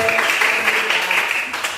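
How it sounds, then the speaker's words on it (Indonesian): A classroom of students applauds a classmate, a brief burst of dense, steady clapping that continues throughout. "Oke, tepukan untuk Alex."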